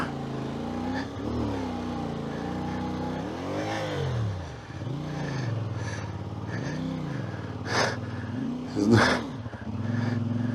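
A CFmoto 450MT adventure motorcycle revs off-road on a deep, hilly trail. The engine climbs and falls in pitch several times in repeated surges, with a few sharper bursts near the end.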